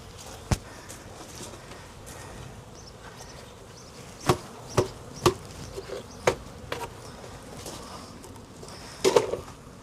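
Bees buzz faintly around an open hive box being filled with frames, with a few bees on the floor, broken by several sharp knocks and taps as the hive is handled.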